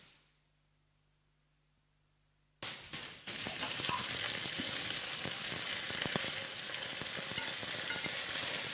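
Duck breasts sizzle in a hot pan, a steady, loud crackling hiss that starts abruptly after a stretch of silence and continues unbroken, with a few clatters at the start.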